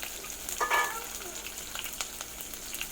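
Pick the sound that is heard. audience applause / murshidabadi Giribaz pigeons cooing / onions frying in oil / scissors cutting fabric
onions frying in oil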